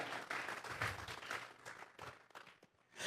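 A church congregation applauds in praise to God during a Spanish-language sermon, giving a fairly quiet, steady patter of many hands that thins out and fades toward the end.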